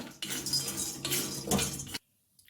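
Cashew nuts are lightly roasted and stirred in a pan, a steady rattling, scraping shuffle of nuts against metal with a soft sizzle, stopping abruptly near the end and leaving near silence.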